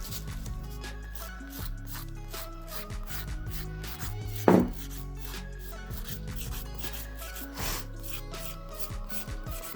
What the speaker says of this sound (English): So I'm just going to lightly buff over the nail.